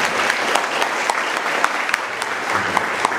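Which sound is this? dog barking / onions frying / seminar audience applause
seminar audience applause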